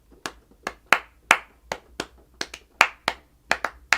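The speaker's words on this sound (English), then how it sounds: "there's this rhythm that we've been talking about that will come from people clapping" Hands clapping out a syncopated rhythm at close range, about a dozen crisp, dry claps in an uneven repeating pattern with no voices.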